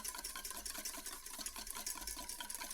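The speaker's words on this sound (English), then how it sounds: "I can do a much better job of whisking it, and it keeps it confined." A whisk beats egg yolks and oil for mayonnaise in a small bowl, making quiet, rapid, rhythmic scraping and sloshing strokes that continue without a break.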